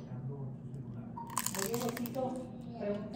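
Crispy oil-free tacos dorados made in an air fryer crunch as they are bitten, giving a quick run of close, crackly crunches over a low background hum.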